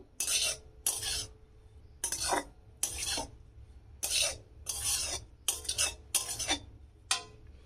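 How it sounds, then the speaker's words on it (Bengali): A spoon scrapes and stirs grated coconut in a pan while making dud puli, in about a dozen rhythmic raspy strokes, close and clear over a low background hum. "নারকেল কড়াটা দিয়ে একটু নেড়ে ছেড়ে নেবো"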